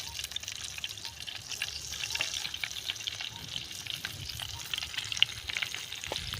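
Steady crackling sizzle of coated fish frying in hot oil on a tawa over a wood-fired stove, continuous and close, with a few brighter pops scattered through.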